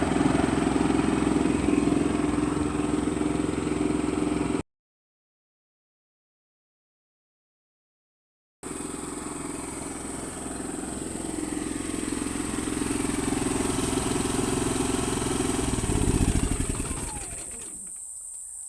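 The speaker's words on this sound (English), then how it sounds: "generator is running. I've got a low idle on, which is where I'm going to be leaving it." Generator idling low inside a sound-deadened generator house, giving a steady engine drone. It runs continuously, breaks off into silence for several seconds, then resumes and holds an even hum to the end.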